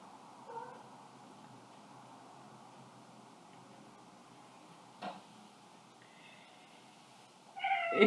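A house cat meows faintly a couple of times in a quiet room over a steady ticking, then a louder, closer meow at the end.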